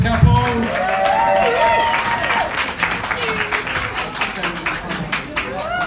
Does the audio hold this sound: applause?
yes